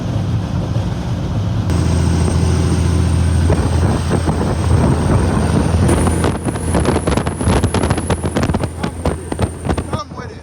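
A Cummins diesel in a reefer LTL truck pulls a heavy load, giving a loud, steady low engine drone with a high whine and wind buffeting close to the microphone, then a rougher, pulsing stretch near the end.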